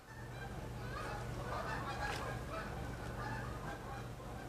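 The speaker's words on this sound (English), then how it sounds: "I hear geese." Geese flying by honk repeatedly in the distance over a steady low hum and broadband background noise, with faint voices mixed in.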